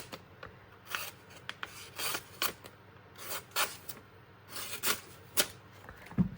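A knife blade is sharpened by hand, giving a quiet series of irregular rasping strokes with short pauses between them, close up and with no talking.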